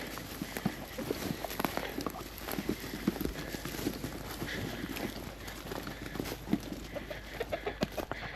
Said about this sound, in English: We just had about 50 chickens